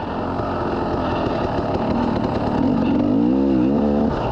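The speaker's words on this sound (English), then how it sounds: "there ain't nothing better than a 300 two-stroke. Put a little gear in it." A 300 two-stroke dirt bike engine revs loud and close, rising in pitch as it pulls through the gears in a steady, continuous drone that climbs toward the end.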